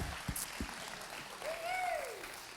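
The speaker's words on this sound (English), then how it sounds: "Another golf clap." Soft, sparse golf clap from a small group: a few faint, quiet hand claps, followed by a brief high, whistle-like sweep over low background noise.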